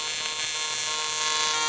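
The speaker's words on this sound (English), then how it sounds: "that's the beauty of being able to pulse on thin sheet metal" HTP Invertig 221H TIG welder pulsing at 160 hertz on thin sheet metal, a steady close buzzing hum with a fine pulsed texture running unbroken throughout, with no voices.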